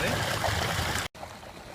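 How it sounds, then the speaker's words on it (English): A Resun PC-18000 pump moves a heavy flow of water at low head, giving a steady, dense rushing and splashing that drops out briefly near the end before resuming slightly quieter. "that's virtually at low head, pumping quite a bit of water there"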